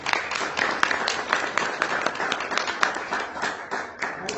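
An audience at a talk on suicide in Naucalpan applauds as a psychologist is welcomed: dense, steady clapping from a crowd, continuous and fairly loud for several seconds, with faint voices underneath.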